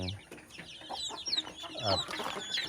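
Chickens on a small backyard farm cluck in short, scattered bursts at moderate distance, with faint rustling and background noise in the hot dry season.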